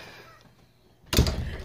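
A house cat lets out a single sudden, loud meow near the microphone after a second of quiet room noise.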